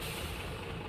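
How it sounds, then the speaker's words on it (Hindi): A truck stopping in a parking area, heard as a short sound effect: a low, steady rumble of a heavy engine, fairly quiet and alone with no talk. "वेदा ने पार्किंग एरिया में ट्रक रोका और लाइट्स ऑफ कर दी।"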